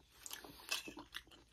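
Someone eats a tender crock-pot pork chop with onion and mushroom gravy, making a few quiet, close bites and soft chewing sounds with no talking.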